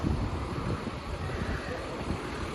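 Wind gusting along a Brooklyn street near Atlantic Avenue on a fine day, a steady broadband rumble of air buffeting the microphone with no clear breaks, fairly loud throughout.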